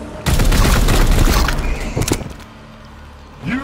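A loud, close burst of heavy automatic gunfire erupts in the Warhammer 40k: Chaos Gate Daemonhunters video game, roaring for about two seconds with booming impacts before tapering into a fading rumble and a short electronic whoosh.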